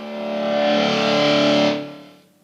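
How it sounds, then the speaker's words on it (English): A sustained, heavily distorted electric guitar chord at maximum volume swells up, rings loud and buzzy for over a second, then cuts off and fades into quiet. "and it's full distortion all the way through."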